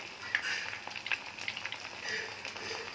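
Steady sizzle of oil frying in a pan, a soft crackling hiss with small pops scattered throughout, fairly close and continuous.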